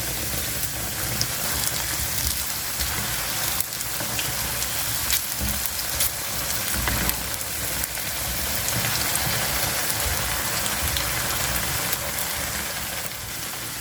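Potato cutlets (aloo tikki) fry in hot oil in a pan, a steady, close, dense sizzle and crackle that holds at an even level throughout with no voices.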